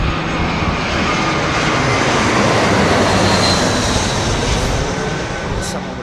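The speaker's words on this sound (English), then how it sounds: "It sounds like a 380 startup." Airbus A380 engines spooling up at Heathrow, a loud steady broadband roar and whir that holds evenly throughout with no pauses.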